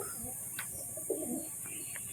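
A feather-footed pigeon coos softly a few times over a steady background hiss, close by and quiet.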